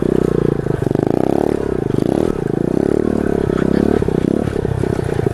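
A pit bike's small engine drones loudly and steadily while being ridden, with a sustained harmonic engine tone that rises and dips slightly, accompanied by rattling and scraping noise from the ride.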